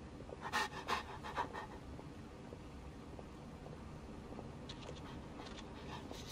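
A dog pants in quick, breathy bursts near the start, then softer panting continues faintly against a quiet hiss, with no talking.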